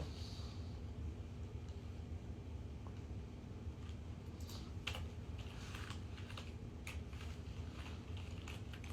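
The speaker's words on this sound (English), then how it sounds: "I'm gonna type that in." Faint clicking of typing on a computer keyboard, soft and scattered over a steady low background hum, with no speech.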